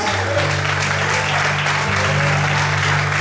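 A church congregation claps together during a morning service, a dense, continuous wash of applause at steady loudness for the full stretch, with a low organ-like hum underneath.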